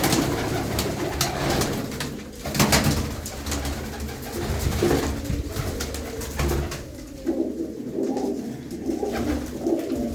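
Close, steady cooing from a black-eyed pigeon fills the stretch, low rolling throat calls repeating with slight swells, over a busy background of rustles and soft knocks.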